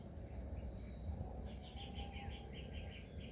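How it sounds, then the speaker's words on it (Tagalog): Several forest birds chirp and trill over steady insect buzz, with a run of quick repeated calls in the middle, moderately distant. "Napakadaming ibon dito."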